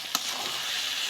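Boiled new potatoes frying with spice masala in a pan, a steady close sizzle throughout with one brief clatter at the start.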